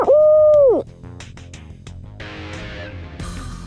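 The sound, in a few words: owl hoot imitation made with a call, for turkey hunting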